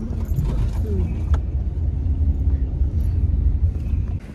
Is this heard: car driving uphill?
yes